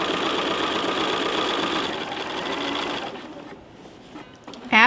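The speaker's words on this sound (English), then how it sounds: "I'm going to take a stitch or 2 before I exit my wreath" A sewing machine with a walking foot runs steadily for about three seconds while stitching a quilted pillow, a dense rapid mechanical whir, then slows and stops, followed by a brief louder click.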